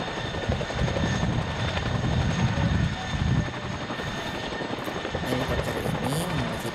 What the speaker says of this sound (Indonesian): Helikopter Chinook